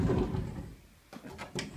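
A squeaky sliding closet door in a bedroom with hardwood floors is pushed along its track in a few short scraping bursts after a quieter start, close by and fairly soft.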